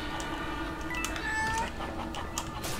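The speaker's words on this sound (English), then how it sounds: "There's a cat." Cat meowing in a Roblox horror elevator game, a couple of clear drawn-out meows over a busy game background.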